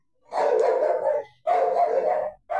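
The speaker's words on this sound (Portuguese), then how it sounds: "meus cachorros latindo" Dogs bark loudly and close by in three long, heavy barks with short pauses between them.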